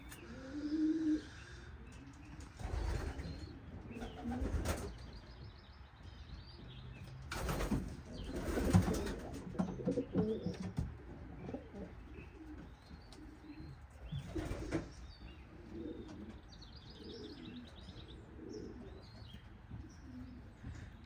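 Racing pigeons in a loft coo softly off and on, with occasional wing flaps and scattered chirps over a steady low room murmur, moderately near and unhurried.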